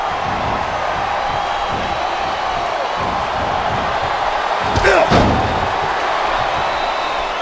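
Arena crowd noise at a wrestling match in the Smackdown vs. Raw 2008 video game, a loud continuous roar of cheering with a brief thud of a slam partway through.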